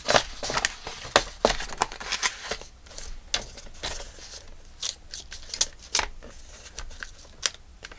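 A blade slices through a craft piece to trim off its bottom, giving a run of sharp, close cutting and scraping strokes in an irregular rhythm, with no talk over them.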